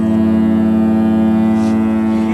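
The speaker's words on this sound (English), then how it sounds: "The foghorn." A ship's foghorn sounds as one long, loud, unbroken low blast lasting throughout, with no talking over it.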